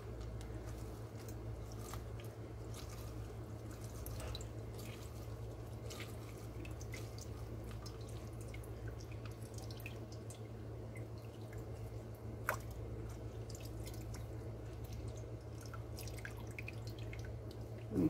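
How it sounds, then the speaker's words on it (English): Fruit squeezed by hand in a homestead kitchen, juice dripping in sparse, faint drips and small ticks over a steady low hum, with no voices. "So I'm going to just go ahead and juice this."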